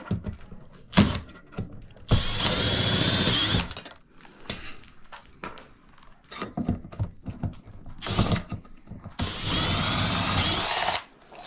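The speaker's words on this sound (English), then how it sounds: "Next, we want to take out these 2 screws." A power drill backs two screws out of a ceiling fan during installation, with two long steady whirring bursts separated by clicks, rattles and handling noise, close and loud, with no talking.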